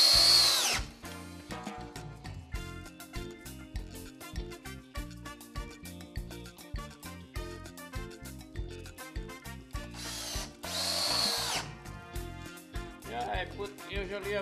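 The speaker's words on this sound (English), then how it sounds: "Just gonna put some screws now that is supported." A power drill drives screws into wooden archway framing, giving repeated short whirring bursts with pauses between them, plus a couple of louder high-pitched spurts, close and moderately loud.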